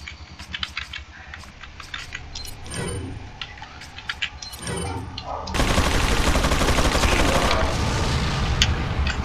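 Video-game gunfire in Resident Evil 4, sparse sharp shots and clicks at first, then a dense, loud, continuous burst of fire over a rough background for the last few seconds.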